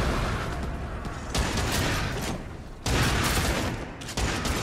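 Dense, loud gunfire from the VR shooter Until Dawn: Rush of Blood, dual pistols firing in rapid sustained bursts with brief pauses, heavy and continuous throughout.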